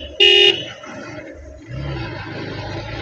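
A motorcycle sounds one short, loud horn blast on a turn during a road ride, followed by steady engine and road rumble.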